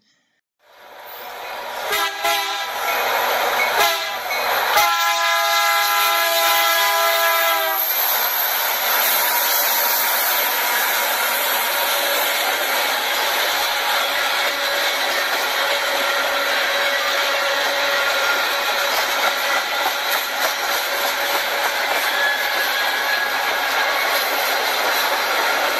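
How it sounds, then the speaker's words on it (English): A train sounds several horn blasts, then rolls past with a steady, loud rumble on the rails that continues for about twenty seconds. "that's nice equipment coming in here on this train"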